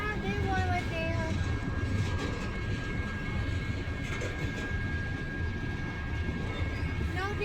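A BNSF mixed freight train passing at night, a continuous rumbling roar of rolling wagons with faint squeals, while people talk over it.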